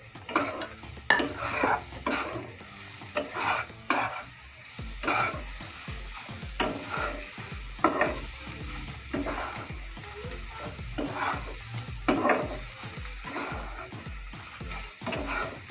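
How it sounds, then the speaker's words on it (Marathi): Beans masala being sautéed in a pan gives a constant sizzle broken by rhythmic scraping stirs roughly every second, each stroke a brief gritty swish against the metal, close and clear with no talk. "हे परतून घ्यायचं आपल्याला थोडा वेळ।"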